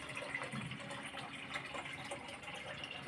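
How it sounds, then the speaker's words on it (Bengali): Water runs steadily into a container at a home kitchen, a continuous close gushing flow with no talk. "জল ভরছে"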